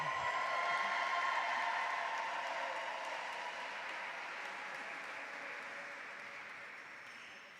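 Sustained audience applause for a city mayor at an American Indian Heritage Month celebration, a dense wash of many hands clapping that starts loud and slowly tapers off, with no talking over it.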